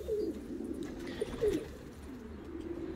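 Domestic pigeons in a loft give low, repeated rolling coos, close and fairly loud, with several birds overlapping and no talk.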